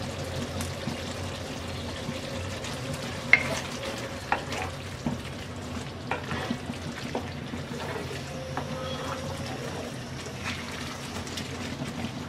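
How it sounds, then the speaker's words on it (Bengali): Spoon stirring Bengali spiced baby potato curry (aloo dum) with chopped coriander in a pan, soft steady scraping and faint sizzle throughout, with occasional light clicks of the utensil, no talking. "এবার আমরা ধনেপাতা কুচি দিয়ে মিক্স করে নামিয়ে নেব।"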